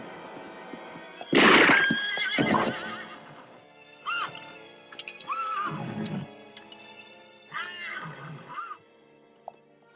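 Horse neighing in several loud, shrill whinnies, with hooves clip-clopping between the calls, heard clearly in a 1968 period horror film scene.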